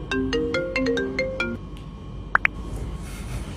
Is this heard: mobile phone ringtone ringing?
yes